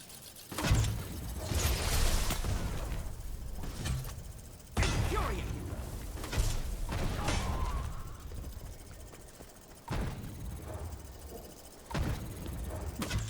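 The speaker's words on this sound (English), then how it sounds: "I can actually lure things in at range with the mortar" In Guild Wars 2, an engineer's mortar and deployed turrets fire in combat, giving a string of sharp, irregular bangs and clattering mechanical impacts with a busy battle wash in between, all fairly close.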